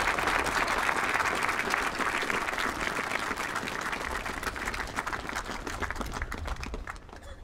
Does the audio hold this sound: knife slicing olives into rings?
no